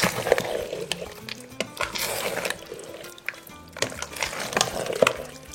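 Mussels cooking in a pan being stirred, clattering shell knocks and scraping spoon strokes over a soft bubbling sizzle, close and intermittent.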